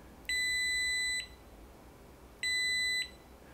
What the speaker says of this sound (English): So I can now touch these probes together and hear a beep.